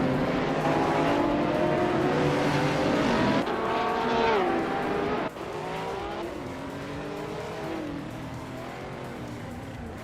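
Race car engines roar in a racing video game, led by a 2004 Gillette Vertigo: loud, rising and falling engine pitch as cars accelerate and shift, with brief tire squeal, continuous throughout.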